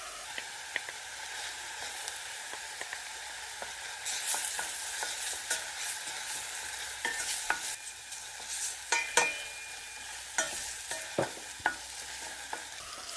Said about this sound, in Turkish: Salça ile beraber kavuralım.